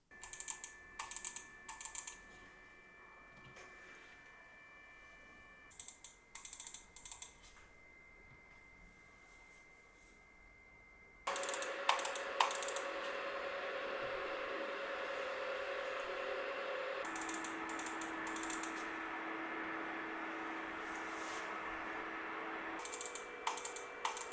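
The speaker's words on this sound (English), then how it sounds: "here is how both the GPUs sound in their cases." Steady whirring of low-profile graphics card fans in a PC case, with a faint whine, quiet and constant, stepping up to a louder broadband rush partway through, with brief clicking bursts.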